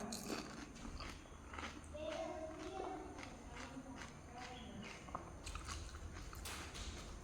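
Pani puri eaten quickly during an eating challenge, with crisp bites and crunching chewing in quick succession up close, mixed with background movement and faint voices.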